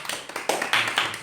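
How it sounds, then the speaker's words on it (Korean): A short round of clapping from a few people in a Korean talk-show studio, quick light claps that come in uneven bursts and stay close and fairly loud. "박수."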